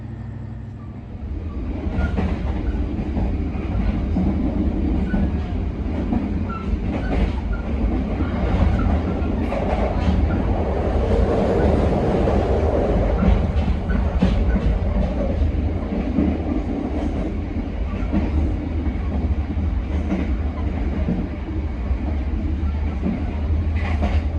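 A passenger train rumbles steadily along the rails with a rhythmic clickety-clack and occasional metallic squeals, heard close and continuous without speech.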